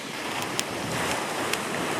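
Wind and surf batter a beach at night during an early winter storm, a steady broadband roar of waves and gusts with two brief sharp clicks, no voices.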